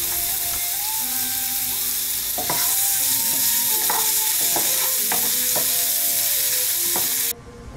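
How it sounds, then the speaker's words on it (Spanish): Diced onion frying in a little oil in a skillet, a steady, close hiss of sizzling that runs throughout under faint tonal background music, then stops abruptly at the end. "En una sartén colocaremos un poco de aceite y freiremos la cebolla picada en cuadraditos."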